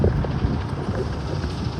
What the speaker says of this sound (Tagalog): Humahangin kasi.